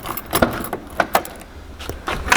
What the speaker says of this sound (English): Can you grab the keys in the trailer there?